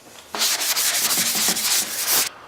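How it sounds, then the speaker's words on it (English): Steady rhythmic hand sanding of lacquered wood, abrasive paper rubbing back and forth in brisk strokes, close and fairly loud, then stopping abruptly. "make sure to sand it down with this"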